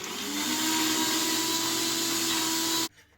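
A food processor blitzes beetroot for falafel with a loud, steady whirring drone that runs alone for nearly three seconds, then cuts off abruptly.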